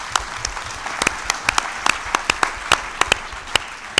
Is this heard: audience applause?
yes